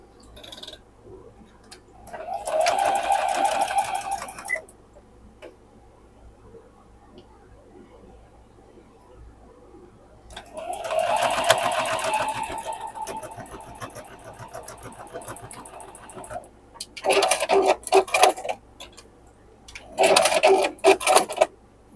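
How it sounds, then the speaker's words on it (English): A sewing machine stitches quilt blocks together in four separate bursts of rapid mechanical whirring, some brief and some several seconds long, with quiet pauses between them. "Now then we're going to sew these two together right here."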